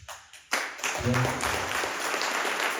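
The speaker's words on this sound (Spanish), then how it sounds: "Alguien puede darle un aplauso" A church congregation breaks into applause after brief sounds from the room, a swell of clapping rising quickly and continuing steadily, with some voices mixed in.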